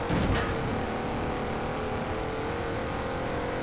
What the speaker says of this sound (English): 345 horsepower and a large V8, that sounds absolutely glorious.